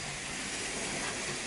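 A Märklin model railway P8 steam locomotive with tender runs along an automatic track section, giving a steady, even rushing hiss of wheels on rails throughout.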